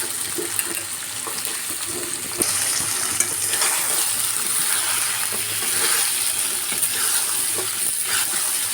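Cut potatoes and shoul fish fry together in a hot pan, a loud continuous sizzle with soft scraping and clinks as the mixture is stirred around.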